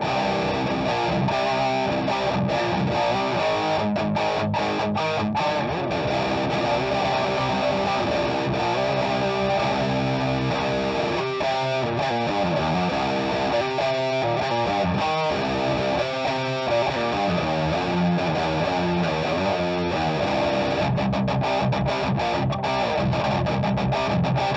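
A heavily distorted electric guitar played through an overdrive distortion pedal plays continuously for a long stretch, thick overdriven chords and riffs, loud and steady with no talking.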